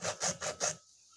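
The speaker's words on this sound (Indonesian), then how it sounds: "Nah, ini kita gergaji juga." Hand saw strokes cutting through material, four quick rasping pulls in even rhythm, close and fairly loud, then stopping into quiet.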